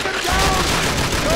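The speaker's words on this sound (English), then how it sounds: "Who's shooting me, bro?" Heavy gunfire from the World War II shooter game Call of Duty: Finest Hour: a dense, continuous barrage of shots and blasts that stays loud throughout the short clip.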